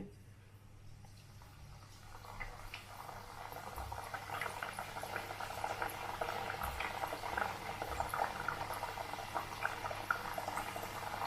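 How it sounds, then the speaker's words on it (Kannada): Shankarpali dough pieces deep-frying in hot oil on a medium flame, a steady bubbling crackle that swells after the pieces go in and keeps up a dense, close fizz throughout with no talk. "ಎಣ್ಣೆ ಕಾದಿದೆ ಇವಾಗ ಹಾಕ್ತಾ ಇದ್ದೀನಿ ಎಣ್ಣೆನಲ್ಲಿ"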